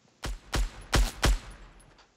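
Four sharp gunshots from a weapon in the video game Fortnite, fired at an uneven pace, loud and close, each with a short ringing tail and no talking.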